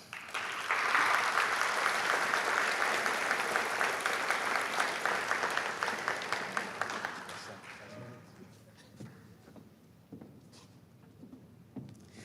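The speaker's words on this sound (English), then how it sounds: "Let's give another round of applause for Dr." Graduation audience applauds at a RICA ceremony, full sustained clapping for about seven seconds before fading into scattered claps and room noise.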